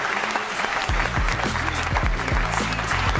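An audience claps at a live show, a dense steady burst of applause starting just under a second in and continuing to the end.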